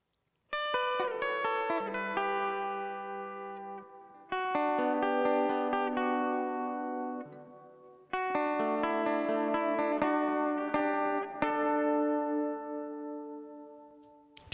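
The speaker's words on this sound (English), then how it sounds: "check it out when I add the reverb and the delay." Sustained melodic vocal phrases in a mix, soaked in added reverb and delay, each note trailing into echoes that hang and fade between lines.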